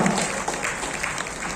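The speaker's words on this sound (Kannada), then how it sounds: "ಅವರಿಗೆ ಮತ್ತೊಮ್ಮೆ ಜೋರ ಚಪ್ಪಾಳೆ ಮೂಲಕ ಅವರು ಅಭಿನಂದಿಸಿ" An audience claps in a short burst of dense, steady applause at a Sampoorna Ramayana stage event, fairly loud and close, with a voice faintly underneath.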